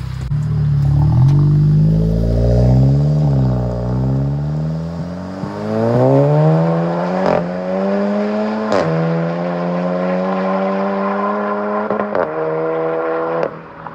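A 360-horsepower Seat Leon Cupra engine, loud and close, revs up from idle in several rising pulls with brief drops between them, holding a steady high roar toward the end with no one speaking.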